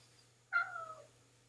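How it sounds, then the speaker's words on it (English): A house cat gives a single clear meow, short and rising then falling, close by against a quiet room with a low steady hum. "That's my cat, by the way."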